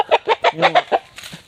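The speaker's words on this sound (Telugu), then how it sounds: "ఇప్పుడు ఈ కోడిపుంజు ఉంది ఇది ఐదు లక్షలకి పందం చేసింది" A prized fighting rooster of the Godavari region clucks up close in a quick run of about six sharp, rhythmic clucks, trailing off into a softer note.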